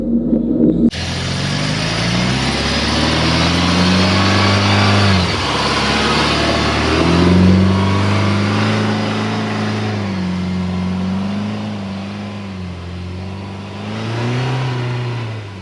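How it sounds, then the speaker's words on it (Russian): A UAZ Patriot with automatic transmission crawls up a slippery hill, its engine droning loud and close with rising and falling revs that surge and ease over the climb, with no talk heard. "сейчас мы разместимся в Патриоте и попробуем заехать на эту горку"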